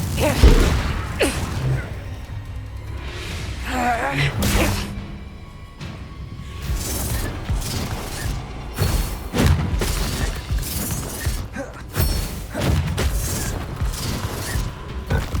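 Confringo fire spell blasts go off during combat in the video game Hogwarts Legacy. A busy run of booming impacts, whooshes and shattering bursts is mixed with shouted spell voices and other fight noise.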